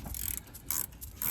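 A ratchet tightens a rear brake bolt on a Ford Transit Mk7: a quick close burst of rattling pawl clicks in two or three short strokes.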